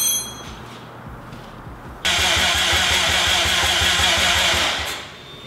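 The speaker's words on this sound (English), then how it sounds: "Well, the starter sounds angry." Starter motor cranks a Datsun 240Z with a 2.3 engine, a loud rapid rhythmic churning that kicks in after a low idle-like rumble and runs steadily for about three seconds before fading.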